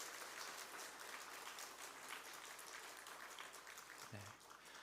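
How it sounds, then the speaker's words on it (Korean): A church congregation applauds during a Sunday worship service in Iksan, with sustained, dense clapping that fills the room from start to finish. "이번 일은 또 특별한 감사니까 박수로 한번 격려했으면 좋겠습니다"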